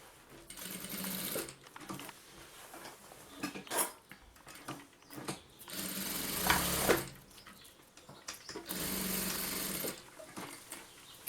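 A sewing machine stitching a mother-and-baby shoulder bag, with bursts of rapid mechanical needle clatter lasting a second or two, separated by short pauses and fabric handling, close and alone.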